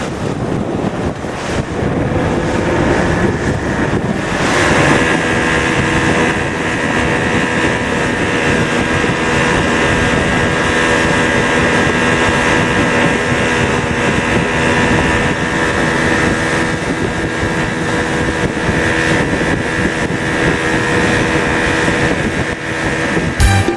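Steady, loud engine drone and wind rush of a boat sailing on the high seas, continuous and unbroken with no talk.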